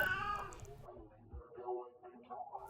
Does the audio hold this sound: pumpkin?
no